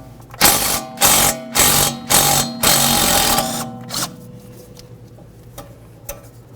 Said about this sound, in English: We'll use a 13mm to remove that bolt.